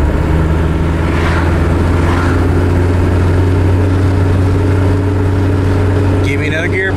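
Volvo wagon with a repaired overdrive driving down the road: a steady, loud engine drone with a constant low hum, heard from inside the car and unbroken for the whole stretch.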